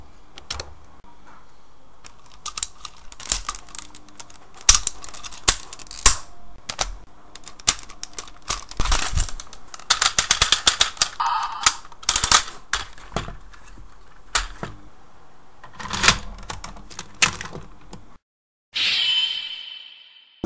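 Galaxy Convoy transforming toy being posed and handled, its ratcheting joints giving irregular runs of sharp, close clicks, some in quick rattling bursts, with handling noise between.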